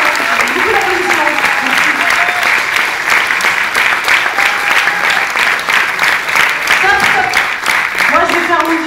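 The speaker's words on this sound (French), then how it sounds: "Beaucoup d'applaudissements." A large audience at a live show in Montpellier claps and cheers in sustained, dense applause that stays loud and even throughout, with a few voices rising over it.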